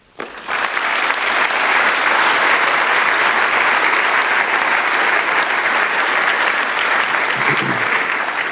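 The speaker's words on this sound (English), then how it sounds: "They applauded for you, so apparently it was well done." An audience at a physics young speaker contest breaks into loud, sustained applause after a talk, starting abruptly and holding steady clapping to the end.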